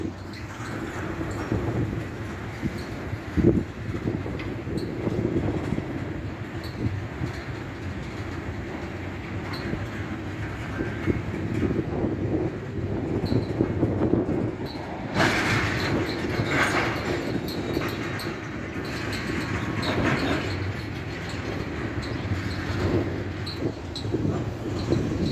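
A long freight train rolls slowly past a big railroad crossing, a steady low rumble of wheels on rails with scattered clanks and a brief bright screech partway through, heard from nearby traffic without speech.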